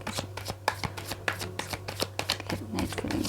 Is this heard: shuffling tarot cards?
yes